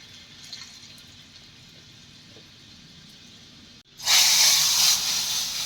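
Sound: hot garlic tempering poured sizzling

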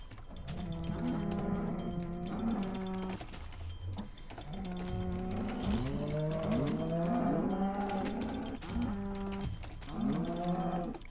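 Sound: cows mooing in a video game

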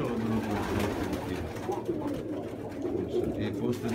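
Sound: pigeons cooing

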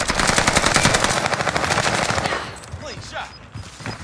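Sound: gunshots in a shooter video game

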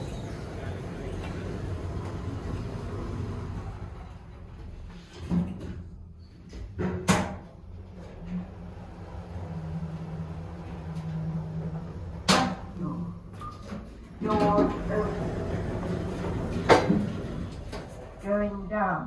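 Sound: KONE MonoSpace lift doors and car travelling up

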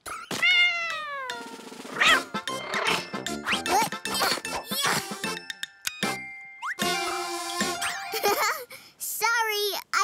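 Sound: cartoon cat meowing

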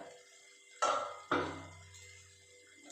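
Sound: lid lifted off a cooking pot

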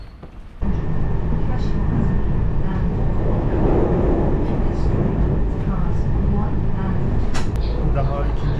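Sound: train riding interior

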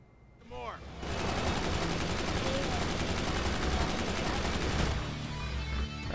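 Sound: gunfire in video game Brutal Legend

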